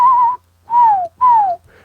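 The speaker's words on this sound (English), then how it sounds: "So let's practice first, a little whistle." Three clear, sustained whistled tones, each gliding slightly downward and separated by short pauses, made close up as a quick practice whistle for sampling.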